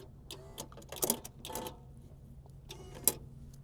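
RV sewer hose reel retracting in a Mercedes Sprinter coach, a steady mechanical whir with irregular ticking and clicking, close and moderately loud, ending with a sharp click.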